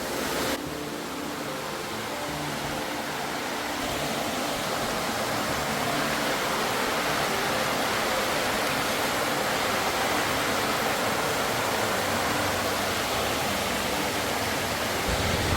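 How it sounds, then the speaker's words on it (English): Steady, loud rush of water as two streams pour past both sides of a rock in the Marayur sandalwood forest, a continuous broadband roar with no voices. "It has got two streams coming through both sides of this rock."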